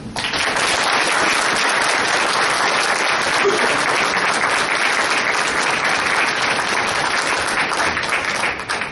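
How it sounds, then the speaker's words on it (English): At a township Memorial Day ceremony, a crowd gives the mayor a warm round of applause: loud, sustained clapping from many hands that holds steady for nearly nine seconds before easing off at the end. "give the mayor a very warm round of applause"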